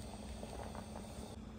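Masala curry bubbling at a steady boil in a clay pot, a continuous close bed of soft popping and gurgling bubbles with no voices.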